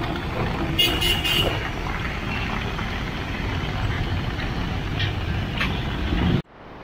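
A truck rumbles on a street during a clearing operation in heavy rain, a loud, steady engine drone with brief higher bursts, ending abruptly.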